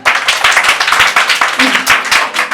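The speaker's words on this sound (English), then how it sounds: "Can you clap for them?" Children clapping at a school career day, a loud burst of quick, uneven handclaps close by that lasts a couple of seconds, with faint voices underneath.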